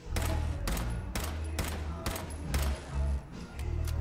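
Rapid bursts of automatic gunfire in the Fallout 4 video game during an assault at Corvega, sharp repeated cracks in quick succession over deep booming thuds, loud and close.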